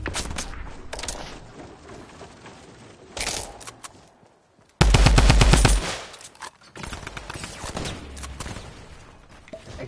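Rapid machine-gun bursts in a shooter game, a dense loud volley around the middle with scattered shorter shots and impacts before and after, no talking.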